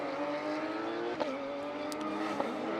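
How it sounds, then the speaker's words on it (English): A Porsche race car with a 4-litre six-cylinder engine rumbles through the pit lane at a Porsche Sports Cup Suisse event in Portimao, a steady, moderately distant drone with slight pitch shifts. "I could just hear a rumble of a 4-litre 6-cylinder"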